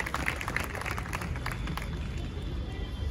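An audience at a Lucknow poetry evening applauds in a dense, steady wash of clapping to welcome a poet, sustained throughout and fairly loud.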